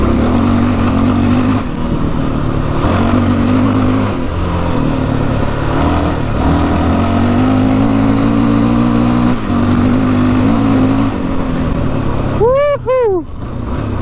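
A 700cc quad ATV engine hums steadily, rising and falling with the throttle, then revs sharply twice near the end, loud and close.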